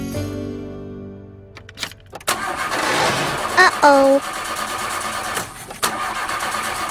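A car engine strains to turn over in chilly winter weather after snow has been cleared off, sputtering briefly and failing to catch, with a short exclamation from a voice over the mechanical noise.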